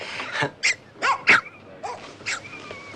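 Several small dogs bark and yip in short, irregular bursts, some shrill and whining, moderately close, with quiet gaps between the yaps.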